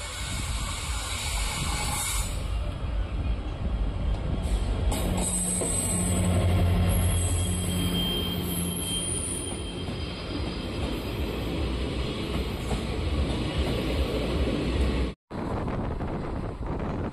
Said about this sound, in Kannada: ಬಂತು ನೋಡಿ ಟ್ರೈನ್.